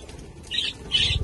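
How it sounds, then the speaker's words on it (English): Budgies in a noisy nursery aviary flap their wings in two short bursts of fluttering, with faint chirps and low rustling underneath, fairly close. "All the birds are making such a racket."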